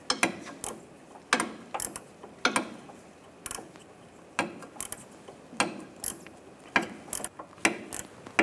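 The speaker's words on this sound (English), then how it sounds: "It helps to use a ratchet wrench." Ratchet wrench removing a sway bar link nut on a 2015-2019 Lincoln MKC, close, crisp clicking ratchet strokes in short bursts with pauses between, no talking.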